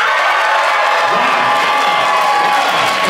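A large crowd at the opening show of a cruise bursts into loud, sustained applause mixed with whoops, cheers and shouts, a continuous roar with no break.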